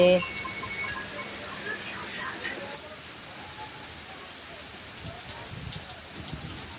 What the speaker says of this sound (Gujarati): આજે જો પાછો અમારે ત્યાં વરસાદ ચાલુ થઈ ગયો છે.